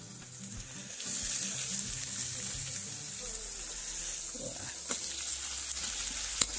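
Ginger and garlic frying in a pan for a chicken curry: a bright hissing sizzle rises after the first second and holds steady, with faint low background noise and occasional clinks underneath.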